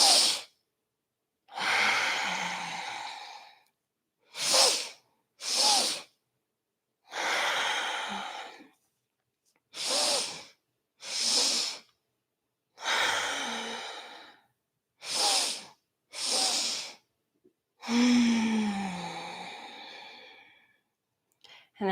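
Deep nasal inhalations and exhalations during a hip abduction exercise, about a dozen slow breaths in steady rhythm, each a loud airy rush close to the mic, separated by short silences.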